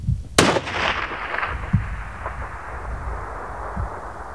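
A sniper rifle fires one sharp, loud shot at a long-range target, followed by a rolling echo and a few faint distant thumps of the impact and surroundings.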